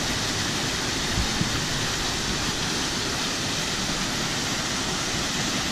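Small waterfalls along a state park trail in southern Illinois give a steady, even rush of falling water that fills the whole clip at close range, with no voices over it.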